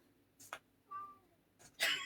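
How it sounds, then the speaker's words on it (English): An angry cat shut outside the room meows once, quiet and muffled, with a couple of soft rustles around it. "If you can hear meowing, it's because my cat is mad"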